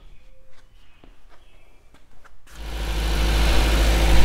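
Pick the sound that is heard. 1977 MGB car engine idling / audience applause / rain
1977 MGB car engine idling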